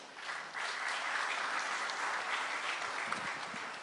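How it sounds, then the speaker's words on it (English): An audience in a room at a panel event applauds, clapping swelling in after a short quiet start and then holding as an even, steady patter of many hands. "I think they deserve a much huger applause."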